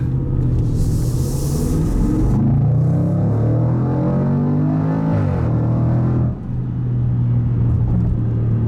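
A 2019 Range Rover Sport SVR with a 5-liter supercharged engine and active exhaust rumbles loudly and deeply close by, its pitch rising and falling as it revs, with a brief dip before the steady growl resumes.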